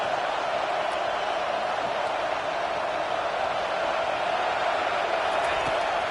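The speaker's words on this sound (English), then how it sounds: "this crowd is turning it up a notch" A dense, steady roar rises from a football stadium crowd at an Ole Miss versus Arkansas game, a broad, continuous wash of cheering and noise.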